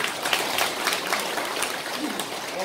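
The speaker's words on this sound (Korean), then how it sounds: "박수로 보내주시기 바랍니다." Dense applause from a crowd at a Korean clan association's annual general meeting fills the brief clip, a continuous patter of many hands clapping at once.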